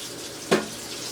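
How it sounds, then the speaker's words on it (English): A kitchen water tap gives a quick splash as a knife is rinsed, a single short burst over a steady background hiss. "Let me just rinse it off."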